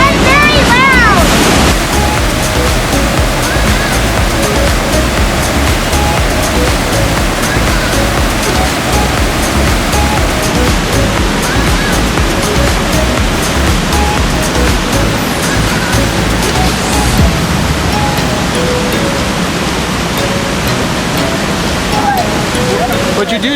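A waterfall at Glacier National Park roars as a loud, steady, continuous rush of water, close by and unbroken throughout, with a brief voice near the start.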